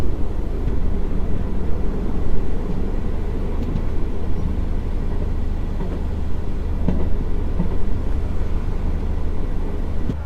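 Passenger train running at about 100 km/h on the India–Nepal railway line near the Inarwa halt, giving a steady, loud rumble and rattle of wheels and carriage with faint clacks, with no talking.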